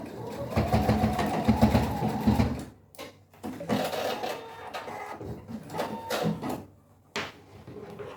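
A sewing machine runs a safety seam on a small bicycle-themed zip pouch with a strap, giving a close rapid mechanical chatter in several short runs separated by brief pauses and clicks.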